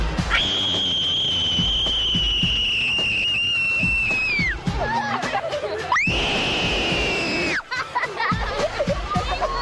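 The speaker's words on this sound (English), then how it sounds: "Give me your loudest scream first." Two children take turns screaming as loud as they can in a shrill scream contest, each long, piercing cry lasting a few seconds, with a crowd murmuring and laughing between and around them.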